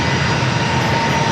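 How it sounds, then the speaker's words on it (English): Delta Boeing 757 jet engines at San Diego airport, a steady, loud, broadband roar that holds evenly throughout, with no voices. "number 2 for takeoff is Delta 757."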